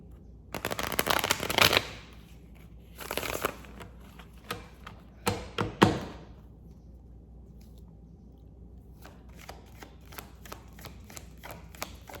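A deck of cards being shuffled close by, with two long riffling bursts, then a shorter flurry of snaps and a trail of light single card ticks.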